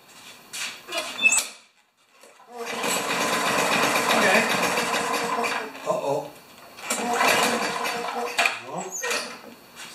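A primed Craftsman lawn mower engine cranks briefly, then starts and runs with a steady buzzing drone that dips and picks up again, fairly close and loud.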